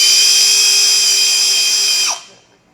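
A Ryobi Kyocera BID 10XR impact driver spins freely at its high-speed setting, a loud, close, steady high-pitched whine that cuts off and spins down near the end.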